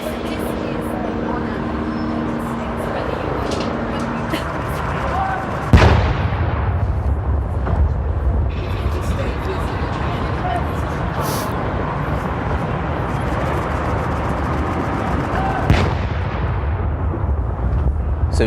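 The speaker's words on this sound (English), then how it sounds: "There's the gun salute, we believe." A ceremonial gun salute at Buckingham Palace for a state welcome, with two distant booming reports about ten seconds apart rolling over crowd and outdoor ambience, while a voice talks faintly in the background.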